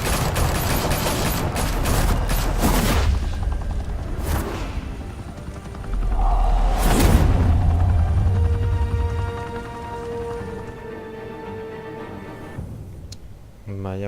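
Gunfire in the video game Batman: The Telltale Series: a rapid burst of shots opens, followed by heavy booms and mechanical rumbling, with a voice speaking over part of it and music-like tones lingering afterward.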